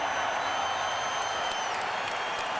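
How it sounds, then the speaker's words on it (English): Crowd at a boxing match between Roy Jones Jr. and Richard Hall clapping and cheering for a fighter's effort, a dense, even wash of applause from a large arena audience throughout. "where Hall can see him and applauds the fighter's effort"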